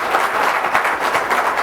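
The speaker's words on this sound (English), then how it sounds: "Warm round of applause for Rex." Conference audience applauding during an evening session, a dense, steady patter of many hands clapping at even loudness for the whole stretch, with no voices on top.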